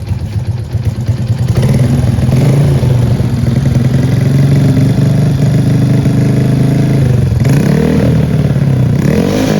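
A Honda Karisma 125 motorcycle, its engine bored up to 147cc, idles loud and close with a steady low throbbing rumble and mechanical clatter, holding even throughout with a slight blip near the end.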